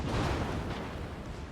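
A battleship fires a turret salvo in World of Warships, heard as a brief, dense booming rumble that fades over about a second and a half.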